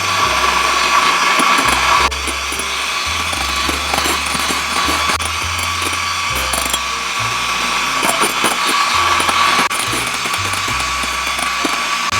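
An electric hand mixer beats egg whites with sugar into a meringue, a loud, close mechanical whir with rattling, gear-like clatter and shifting pitch as the beaters move through the bowl.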